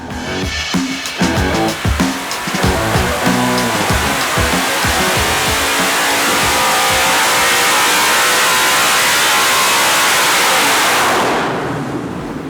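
A Ford Coyote V8 fitted with COMP camshafts fires up with choppy pulses, then swells into a loud sustained high-rev roar that holds for several seconds before easing off at the end.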